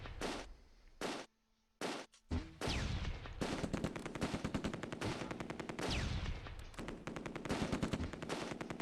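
Rapid bursts of 30 cal machine gun fire in the WWII strategy game Close Combat II, loud close rattling volleys with brief gaps between, then near-continuous firing.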